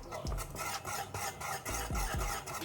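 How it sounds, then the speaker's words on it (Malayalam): Banana pudding mixture is stirred in a pan, giving a continuous rasping, scraping sound with repeated strokes of the spoon against the pan. It is close and steady, with no talking. "ഇതിട്ട് കഴിയുമ്പോൾ നന്നായിട്ടൊന്ന് ഇളക്കി കൊടുക്കണം കേട്ടോ"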